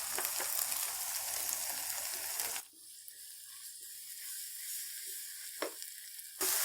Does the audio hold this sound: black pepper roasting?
yes